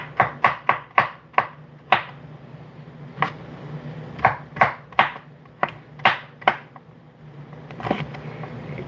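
Two coconuts being cut, heard as a series of sharp, close chopping strikes, quick bursts at first and then spaced-out hits with pauses between them, with no talk.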